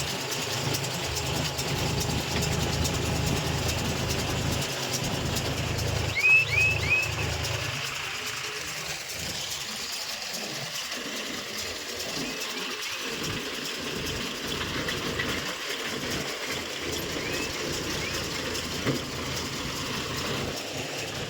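A John Deere 5050 D 4x4 tractor engine runs at a steady drone throughout, close and continuous, with faint rattles on top.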